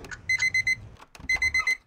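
A video game alarm sounds in two bursts of rapid, high-pitched electronic beeps, four beeps per burst, loud and close, with a brief gap between the bursts.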